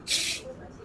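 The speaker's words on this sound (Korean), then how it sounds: "탄산도 들리시죠?" Carbonated cider fizzing in a cup, a brief bright hiss that swells and fades within half a second, heard close up with no talking.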